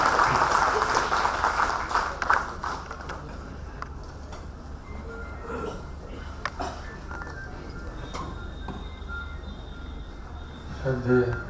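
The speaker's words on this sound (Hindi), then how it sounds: "तो इस महानुभाव का हम स्वागत एक जोरदार तालियों के साथ करें" An audience claps to welcome a guest at a talk. The applause is strongest at the start, then drops to a scattered, fainter patter with a few louder bursts near the end.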